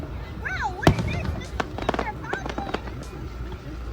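Fireworks burst at an outdoor fireworks show, one sharp loud bang followed by scattered crackling pops, with people talking throughout.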